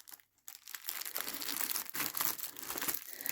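A package holding manga is cut open with scissors, and the plastic wrapping gives close, busy crinkling and tearing rustles that run on for a few seconds after a short pause.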